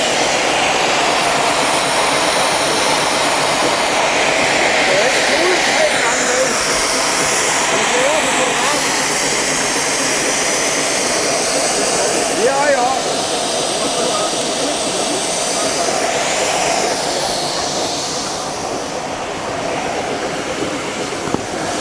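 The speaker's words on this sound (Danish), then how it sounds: "Det, der væser nu, det er sikkerhedsventilerne, fordi at vi har overproduktion af damp." The safety valves of a steam tractor in Denmark hiss loudly and continuously as they vent excess steam, a broad, steady roar that lasts throughout and fades slightly near the end.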